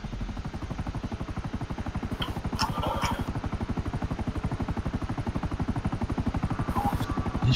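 A helicopter in Grand Theft Auto V thumps with a rapid, steady rotor beat and engine drone throughout, loud and continuous, with faint brief electronic blips layered on top.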